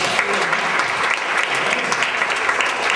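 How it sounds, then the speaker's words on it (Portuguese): Congregation applauding inside a Baptist church, a steady, dense wash of clapping at even loudness throughout. "Você pode aplaudir o Senhor"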